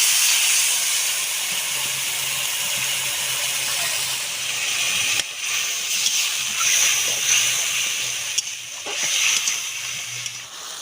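Spice masala sizzles and hisses in a pan after a splash of water for a Bengali egg and eggplant curry, a loud, continuous steamy crackle with a brief clatter midway.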